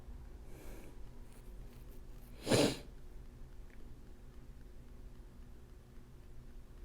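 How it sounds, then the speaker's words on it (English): A single quick sneeze bursts out once, close and sharp, in an otherwise quiet room with faint background noise. "I'm gonna sneeze."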